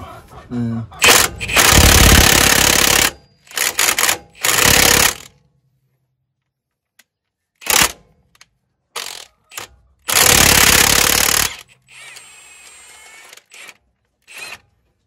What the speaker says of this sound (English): I'm going to take the impact gun, put them on the swivel socket.